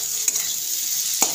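Close, steady sizzling of an egg and potato curry frying in a pan, with two distinct spatula knocks as fried eggs are stirred through, no voices.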